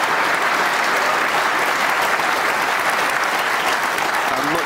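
A packed snooker crowd breaks into loud, sustained applause after a deep screw shot, dense clapping filling the hall evenly from start to finish.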